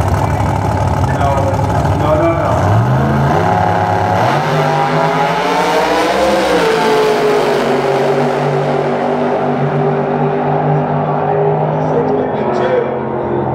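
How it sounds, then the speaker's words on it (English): A fast drag racing car roars past under hard acceleration, its loud engine note climbing and then fading into the distance, heard alongside crowd and commentary voices. "Man, what a fast car."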